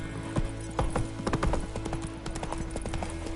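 In The Witcher 3 video game, a horse trots along with clear, rhythmic hoof clip-clops, close and steady over a low game ambience for a few seconds.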